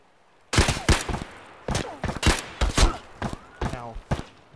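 Gunfire in Escape From Tarkov: sharp, loud bursts of shots in quick irregular clusters, with short pauses between groups and faint noise underneath.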